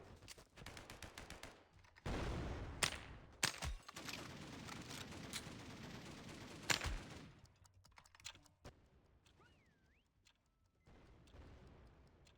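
Rapid bursts of video-game gunfire as players shoot at each other, with sharp loud shots clustered in the first half, then sparser, fainter pops and clicks.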